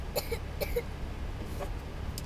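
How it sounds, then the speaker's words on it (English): A few soft, small coughs, close by and quiet, in two quick pairs followed by a fainter one. "He's got a little cough and a runny nose."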